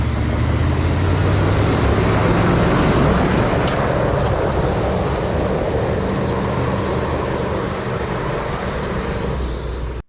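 An old Ford truck with a compound turbo engine driving, a loud continuous roar of engine and road noise that holds steady before fading slightly and cutting off at the end.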